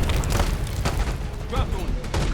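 An RPG blast rumbles through a Black Ops 6 campaign battle, a heavy low boom under continuous shouted talk and gunfire clutter, with no single sharp impact standing out.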